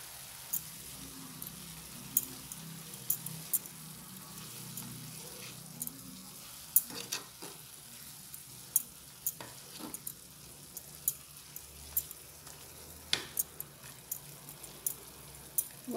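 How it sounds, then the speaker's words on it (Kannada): Moong dal and spinach palya gently sizzles in a pan while a spoon stirs it, giving soft scrapes and occasional light taps over a faint, steady frying hiss. "ಇವಾಗ ಇದನ್ನು ನಾವು ಚೆನ್ನಾಗಿ ಮಿಕ್ಸ್ ಮಾಡ್ಕೊಳ್ಳೋಣ."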